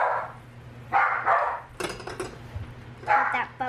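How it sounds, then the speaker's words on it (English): Dogs bark in a home kitchen during baking, giving several sharp, mid-distance barks in short bursts spread across the moment, moderately loud over a steady low background hum. "Told you we have dogs."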